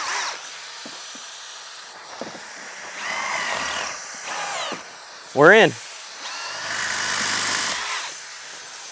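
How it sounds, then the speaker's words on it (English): A power drill whirs up in short bursts, its pitch rising and falling as it bites into a tire's rubber, with someone speaking between runs. "And now let's go ahead and go with the drill."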